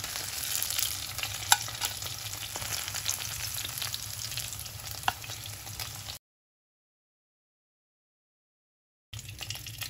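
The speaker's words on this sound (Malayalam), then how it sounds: "രണ്ട് സൈഡ് നമ്മൾ ലൈറ്റായിട്ടൊന്ന് ഫ്രൈ ചെയ്തിട്ടുണ്ട്" Steady crackling sizzle of fish frying in hot oil, close up, cutting out to silence for a few seconds before resuming.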